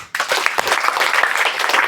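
An audience claps at a student presentation, with dense, steady applause that starts abruptly and continues strongly throughout, close and loud.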